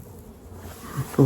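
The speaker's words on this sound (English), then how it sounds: "A wasp just landed on me." A wasp buzzes close by outdoors, a faint hum over quiet background that ends in a sudden louder burst.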